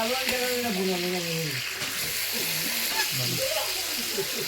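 Tilapia fry in a pan over a wood-fired stove, a steady close sizzle and hiss under a voice talking.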